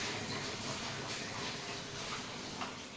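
A pressure cooker sits on a home kitchen stove, giving off a steady, even hiss of broadband noise that holds without a break for about three seconds, with no voices over it.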